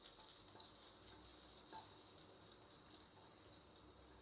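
A steady, soft sizzle of chopped garlic sautéing in a pan, with faint crackles and small pops throughout and no talking.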